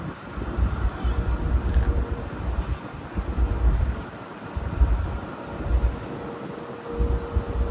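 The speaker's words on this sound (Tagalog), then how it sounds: "malakas lang yung hangin." Strong wind on a cruise ship deck buffets the microphone in rumbling gusts, rising and falling over a low continuous roar, with no clear voices.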